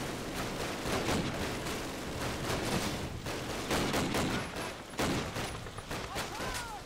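Rapid, dense gunfire crackles throughout a Call of Duty: United Offensive battle, loud bursts of rifle and machine-gun shots overlapping continuously with a few sharper peaks.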